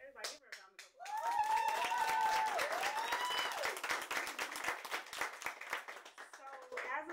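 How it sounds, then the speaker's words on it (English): An audience gives a round of applause for an author at a book discussion on wellness and self-worth. Dense, close clapping runs throughout, with voices and cheering mixed in. "Everybody give her a round of applause."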